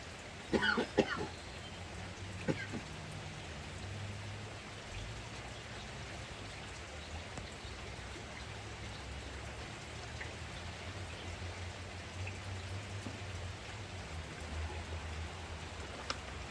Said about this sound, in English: Didn't have to go out in the rain like that.